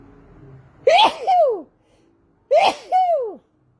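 Two loud, close sneezes a second or so apart, each with a sharp inhaled buildup and a forceful burst.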